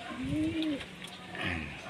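Racing pigeons coo softly at a loft during a two-lap derby, two low murmuring calls heard close but faint against quiet background noise.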